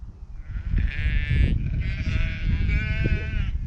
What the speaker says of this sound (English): Lovely sheep.